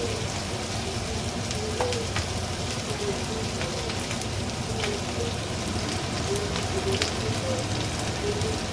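Turmeric goes into a sizzling chicken curry pan, with a continuous frying hiss and faint stirring scrapes throughout.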